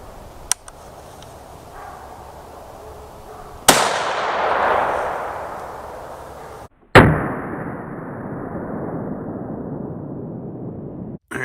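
A 10mm Nosler 180-grain jacketed hollow point round fires from a 12 gauge caliber adapter into ballistic gel, two sharp loud cracks a few seconds apart, each trailing a broad rushing decay.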